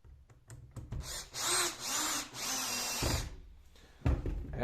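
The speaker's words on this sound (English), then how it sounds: "Put in the screw," A screw is driven tight into the rear enclosure of a Bosch GWS 850C angle grinder with a power driver, giving several loud whirring bursts mixed with short clicks and clunks of handling, close up and with no talk.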